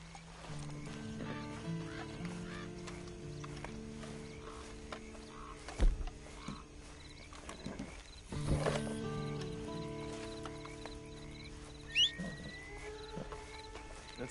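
Horse hooves clop softly while riding in Red Dead Redemption 2, faint and uneven beneath game music tones, with a couple of louder thumps and characters speaking.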